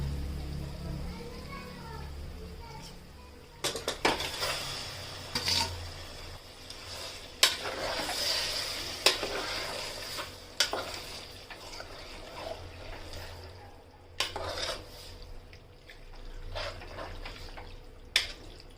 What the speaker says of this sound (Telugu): ఇప్పుడు ఈ బోటీని అల్లం వెల్లిగడ్డ పేస్ట్లో కొద్దిసేపు ఉడకనివ్వాలి